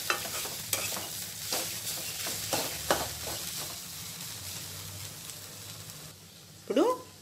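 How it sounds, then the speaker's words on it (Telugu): Drumstick (moringa) leaves fry in a pan over a medium flame, a soft sizzle under repeated scraping stirs of a spatula, with a short voice near the end. "ఒక 3-4 నిమిషాలు మీడియం ఫ్లేమ్లో ఫ్రై చేసుకుంటే మనకు పచ్చివాసన పోతుందండి ఈ మునగాకు."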